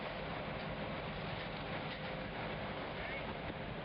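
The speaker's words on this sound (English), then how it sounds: "There's the train. You live 3 blocks from the iron ore train." An iron ore train passes a few blocks away as a steady, unbroken rumble and rattle. It stays low and even throughout, with no voices over it.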